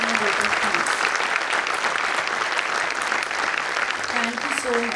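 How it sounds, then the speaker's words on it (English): Audience applause after a stage show, a full, continuous wash of clapping from a large crowd at a steady loud level, with voices faintly audible beneath. "I think this show deserves a louder round of applause."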